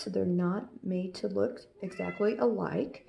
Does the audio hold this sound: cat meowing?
yes